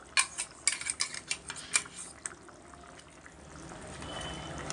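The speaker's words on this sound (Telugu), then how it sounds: "కొబ్బరి వెల్లుల్లిపాయ పేస్ట్ చేశాను. వేస్తున్నాను ఇప్పుడు." Coconut garlic paste going into a cooking pan: quick metallic spoon clinks and scrapes against the pan, then a soft sizzle that slowly builds, with no speech.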